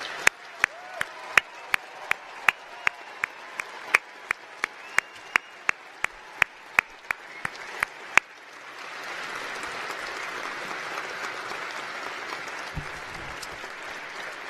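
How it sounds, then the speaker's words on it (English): A graduation ceremony audience gives the graduates a final round of applause. Loud, sharp individual claps come first, then a broad, dense ovation that carries on steadily to the end. "I'd really like everyone to offer our graduates this afternoon a big final round of"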